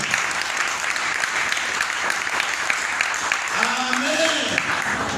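A church congregation claps in worship, a dense, steady round of applause from many people, with voices rising faintly through the clapping toward the end.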